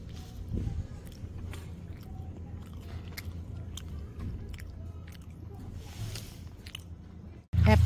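Someone bites and chews a crispy, chewy snack up close, giving moist crunches and squishy mastication over a low background rumble, ending in a sudden loud thump of handling noise.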